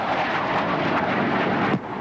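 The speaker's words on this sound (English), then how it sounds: "the A4 Skyhawks streak in for a mock attack on the airport." A4 Skyhawk jets streak low over an airport in a mock attack at the 1992 Auckland air show, a loud continuous broadband jet roar that sweeps past and drops off sharply near the end.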